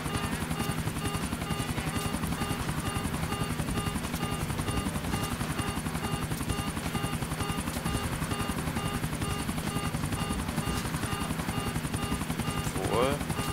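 A helicopter in the video game GTA IV drones with a steady, continuous rotor buzz throughout, while someone talks over it.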